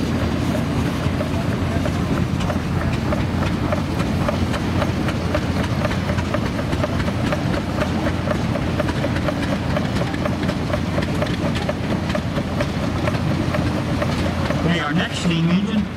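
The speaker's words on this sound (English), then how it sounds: "Steam engine is a Rumley." A 1911 Rumley 25 horsepower steam engine runs steadily at a threshing bee, its dense mechanical chugging and rumble continuous and loud throughout, with a faint higher sound near the end.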